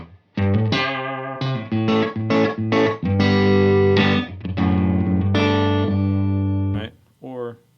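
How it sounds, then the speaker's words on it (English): Distorted electric guitar chords and single notes ring out through a UA Ox rig with room reverb turned fully up, stabs cutting off into a washy decay, with a short picked phrase at the end. "That's the room reverb totally off, all the way up."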